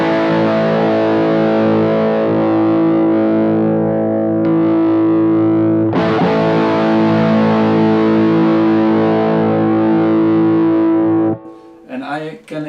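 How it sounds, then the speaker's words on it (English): Loud, sustained distorted electric guitar chord ringing with heavy gain through a distortion pedal boosted by a NUX Boostcore, re-struck once midway, then cut off, followed by a few quieter picked notes. "so then you get more gain, more distortion."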